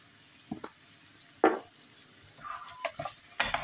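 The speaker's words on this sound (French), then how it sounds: "On mélange le tout." Eggs with fine salt and a little pepper being mixed in a bowl for a country-style omelette: a handful of quiet, short scrapes and clinks in irregular rhythm, with no talking.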